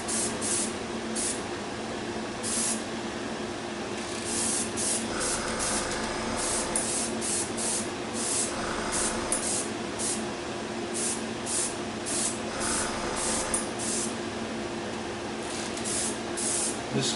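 A spray gun hisses steadily as it lays a fine coat of primer on a scale model railway gun, a close, continuous airy spray that pulses slightly as the trigger is eased and released.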